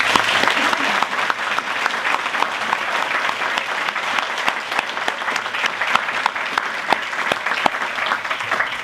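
Audience at an energy excellence awards ceremony applauding the finalists, sustained, full-room clapping with individual sharp claps standing out throughout.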